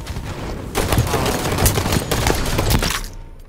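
Rapid automatic gunfire and explosive cracks from a Halo-style Slayer match in a video game, a loud dense burst lasting about two seconds before cutting off abruptly.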